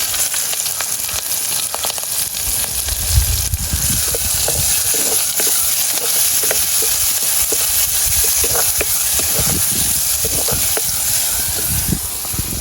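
Onions sizzle loudly in hot oil as the tempering for a Jaffna-style fish curry, a continuous frying hiss broken by frequent sharp spatters and stirring clicks throughout.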